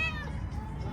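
Several cats meow close by while being fed small pieces of chicken, a short high-pitched meow opening over a background of steady low noise.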